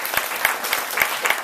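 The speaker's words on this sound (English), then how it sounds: "Let's have another round of applause" Applause from an audience at a bookstore reading, steady dense clapping with a few sharper claps standing out, fairly near and continuous throughout.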